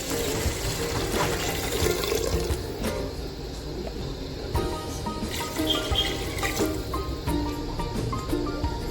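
Water pours and splashes into a pot of fried spices for rice khichdi, a steady liquid rush with small clinks of metal, close by and moderately quiet.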